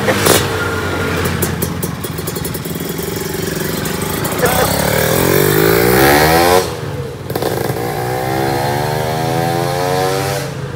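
Motorcycle engine revving up and down steadily at close range for about eleven seconds, its pitch rising and falling, with a brief dip in the middle and voices talking over it.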